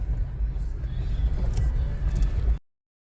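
Vehicle jolting along a rough desert wash road near an Arizona mine, a steady low rumble with rattles and bumps that cuts off abruptly.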